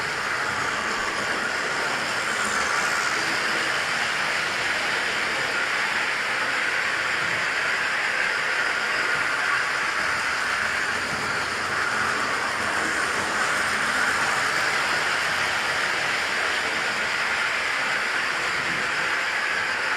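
Steady rushing hiss of a small train running continuously around a track, a constant mechanical whir with no talking.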